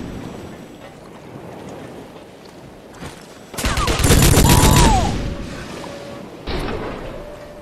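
Gunfire from the Rogue Trooper video game: a quiet ambient stretch, then a loud dense burst of shots for about a second, followed by a shorter later burst, all fairly close.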